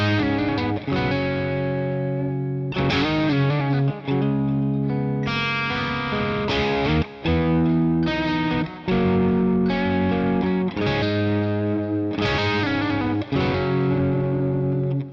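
An electric guitar plays through a Boss Katana amp on a high-gain British-style setting, loud distorted chords and riffs ringing out with short gaps between phrases, no one speaking.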